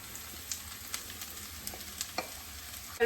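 Steady, faint sizzling of mushrooms and onions frying in a pan, with a few light stirring clicks scattered throughout and no voices.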